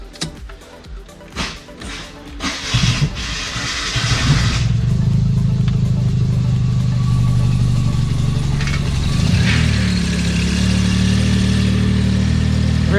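A Suzuki Cappuccino engine fitted with a new exhaust is heard up close: some clicks and shuffling, then the engine cranks and catches before settling into a steady, loud idle that hums on throughout.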